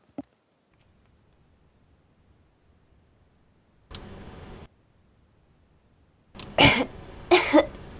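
A child coughs in short, harsh bursts after a brief rough throat sound, a couple of separate coughs near the end against near silence, in the video game Final Fantasy XIV.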